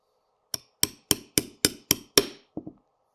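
A hammer taps a punch to drive a roll pin out of a Smith & Wesson M2 pistol, seven crisp metallic strikes at a steady pace followed by two lighter taps, close and clear.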